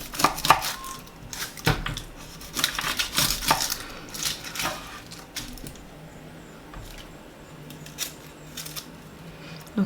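A knife chops an onion on a board for a vegetarian shepherd's pie, giving a fast, irregular run of sharp, close knocks that thin out and fade toward the end.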